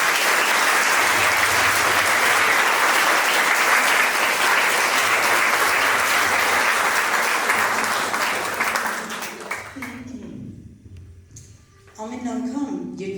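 Audience at a village school event breaks into loud sustained applause that fades out toward the end, after which a voice begins speaking.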